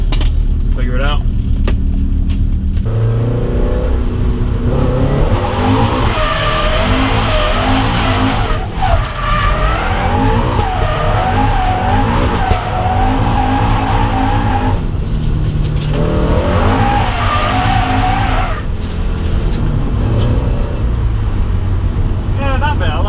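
Car drifting through corners on a track at a drift day, engine roaring continuously with rising and falling revs and squealing tires, loud and close throughout, with a voice talking over it.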